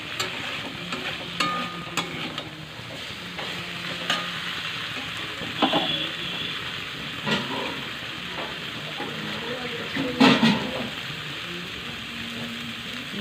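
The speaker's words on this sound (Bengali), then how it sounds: "জল দিয়ে ঢেলে দিলাম একটু ঝোল ঝোল রাখবো" Water poured into a hilsa fish curry with eggplant sizzling in a pan brings a continuous hiss and bubbling, broken by occasional clinks and stirring knocks, close by and steady throughout.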